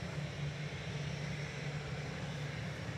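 A distant airliner approaching Manchester Airport produces a low, steady engine drone with a faint hum, continuous and quiet throughout.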